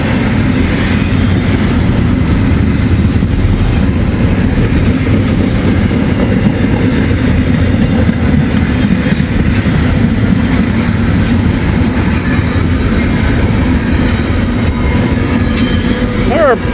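A long freight train rolls along the old B&O line over a trackside defect detector, a steady loud rumble of wheels with clickety-clack rhythm and faint squeal near the end, heard up close throughout.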